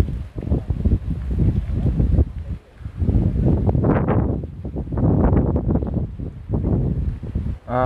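Wind gusts through a large bodhi tree at Hung Thang pagoda in Vung Tau during tree cutting, buffeting the microphone in heavy, uneven rushes that rise and fall over several seconds.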